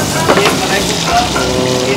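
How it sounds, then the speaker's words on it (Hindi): Sliced onions and capsicum sizzle in a hot pan for a paneer angara dish at a Jaipur roadside dhaba, a steady, close frying hiss with faint crackles throughout. "ये डाल दिए लच्छे वाले प्याज, लच्छे वाले, ये गई शिमला मिर्च"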